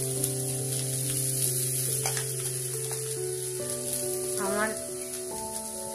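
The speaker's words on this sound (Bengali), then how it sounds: "এবার ঘিটা গরম হয়ে গেছে, আমি কোরানো রাঙা আলুটা দিয়ে দিচ্ছি।" Grated sweet potato dropped into hot ghee sizzles and fries steadily at close range, with a faint electrical hum in the background and a brief spoken word over it.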